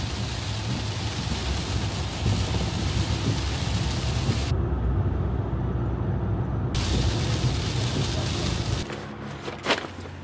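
Heavy rain drums steadily on a car during a thunderstorm while driving, a dense, loud wash with low rumbling underneath that continues without a break before easing near the end.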